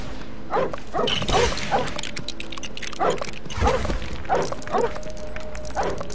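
A dog barks repeatedly in short bursts in the video game Lego Harry Potter Years 1-4, over an electronic background hum, the barks coming in uneven clusters.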